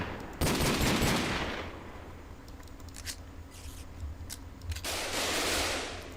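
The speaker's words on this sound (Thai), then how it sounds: "เออก็ยิงซอมบี้อย่างเงี้ยครับ ยิงไป" Video game gunfire from a Minecraft 1.7.10 gun mod on a survival server comes in bursts of rapid shots while zombies are being shot, with loud rushes at the start and near the end.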